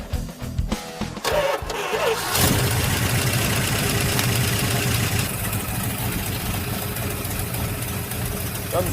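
An old car engine cranks briefly, catches and settles into a loud, steady rough idle that runs on continuously, with no talk over it.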